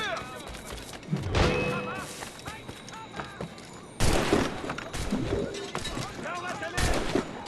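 Musket volleys crack out in a battle scene from the video game Assassin's Creed Rogue, loud bursts in two main waves with scattered shots between, mixed with shouting voices.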